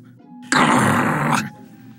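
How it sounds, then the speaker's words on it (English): A dog growls in the Lady and the Tramp cartoon, giving one loud, rough, sustained rumble of about a second that stands alone over a quiet soundtrack. "Good dog, Lady."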